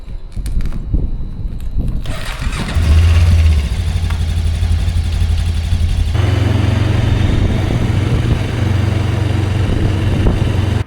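A motorbike engine runs steadily and loud on a short ride toward an ancient town in rural China, idling then holding a constant drone with a shift in pitch partway through.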